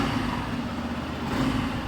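A Yamaha FZ-X motorcycle engine runs close up with a little throttle, a steady, loud mechanical rumble through the exhaust that holds fairly even throughout, with no speech.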